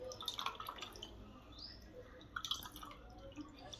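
Quiet, close trickles and drips of water fall in brief bursts from squeezed grated bottle gourd, against a faint background hum.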